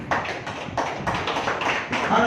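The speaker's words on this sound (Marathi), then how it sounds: "परमेश्वराचे जोरदार टाळी वाजवू" A church congregation claps hands loudly in a quick, regular rhythm of sharp claps, with voices mixed in underneath.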